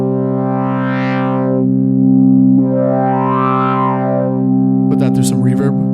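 Korg Prologue synthesizer playing a sustained tone with its filter resonance raised, two swelling resonant sweeps rising and falling over a steady buzzy drone, ending in a burst of gritty, crackling distortion; loud and alone.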